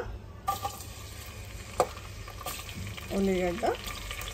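Onions and green chillies fry in spices for a sorrel-leaf mutton dish, making a low, steady sizzle with scattered clinks and stirring taps, plus a brief tonal sound near the end.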